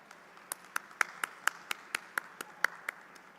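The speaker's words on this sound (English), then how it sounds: "I'll ask the audience to applaud as well." A single pair of hands claps at a steady, even pace at a Founder's Day ceremony, about a dozen sharp claps at moderate distance over quiet room tone. No broad audience applause is heard.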